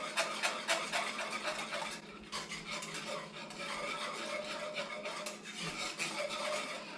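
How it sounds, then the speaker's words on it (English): Rapid, continuous scraping of a whisk against a pan as brown sugar rum sauce is stirred, a busy metallic rubbing rhythm with only short pauses. "we're going to keep whisking this until it thickens"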